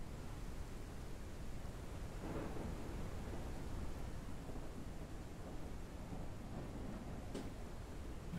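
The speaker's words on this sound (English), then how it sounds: "as soon as this storm's over, we can leave" A thunderstorm in the survival game Forever Skies: steady broadband rain and wind roar with low rumbling thunder swells, continuous and fairly loud, with no talking.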